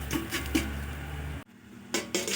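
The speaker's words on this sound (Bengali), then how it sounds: "হালকা একটু নাড়াচাড়া করে আমি 10 মিনিটের জন্য ঢাকা দিয়ে দিচ্ছি।" Metal pot and lid clatter in a Bengali kitchen at a clay stove while cooking lati with mustard: a few close clinks and scrapes, a brief hush, then more metallic knocks.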